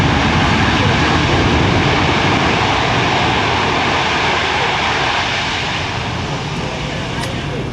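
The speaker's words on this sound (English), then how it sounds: "That's called the tactical approach to landing, using the thrust reversers big time. Pretty noisy" A C-17 Globemaster III lands on a tactical approach with its thrust reversers deployed, producing a loud, continuous, broadband jet roar that slowly eases in intensity.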